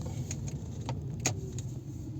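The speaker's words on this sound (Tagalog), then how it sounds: "Grabing traffic." Road traffic crawling in a jam, a steady low engine rumble from nearby idling cars with a few faint clicks and rattles over it and no voices.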